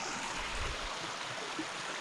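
A brook flowing in the Colorado outdoors makes a steady, close rushing wash of water that holds evenly throughout, with no voices.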